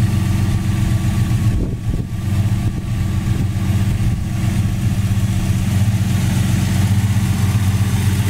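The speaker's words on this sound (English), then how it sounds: "This is a 1975 Dodge Dart Sport, powered by its original 6-cylinder." The original six-cylinder engine of a 1975 Dodge Dart Sport with headers idles in a steady, loud, close low rumble with a slight uneven lope and a brief dip near the two-second mark.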